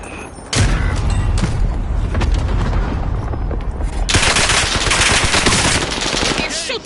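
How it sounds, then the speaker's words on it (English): Sustained automatic gunfire and explosive bursts in the Call of Duty Warzone battle-royale video game, loud and dense throughout, with a brief quieter lead-in before heavy shooting erupts and intensifies toward the end. "They're shooting at me!"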